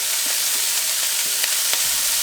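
Bell pepper, jalapenos, red onion and celery hit a hot pot and sizzle loudly, a dense steady hiss with a few small pops and crackles.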